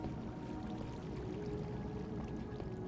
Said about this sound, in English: I still hear water.